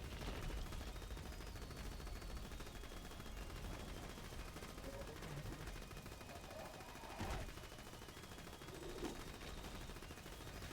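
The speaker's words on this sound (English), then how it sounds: "Kunai, shoot boss, maintain sustained fire" Sustained automatic gunfire aimed at a boss in War Machine Mod Zero Day, a dense, continuous rattle of shots running the whole length, with game effects and occasional bursts layered over it.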